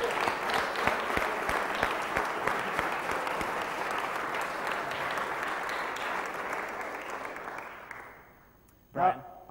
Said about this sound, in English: And another round of applause for our jury.